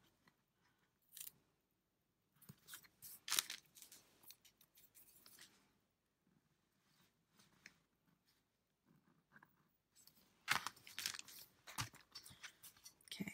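Tape being torn from a roll during a bookbinding craft session, sewing signatures for a button spine: quiet, crackly ripping bursts in several uneven clusters with pauses between, close by and with no talking.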